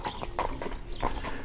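A horse walks with clip-clop hoofbeats in an outdoor village setting, a few clear, evenly spaced hoof strikes close by over a steady background.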